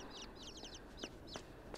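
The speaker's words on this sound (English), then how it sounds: "Oh, here's chickens. Little chickens." Little chickens in the video game Inside cluck softly, with rapid, high chirping bursts repeating in short clusters over a quiet, low background.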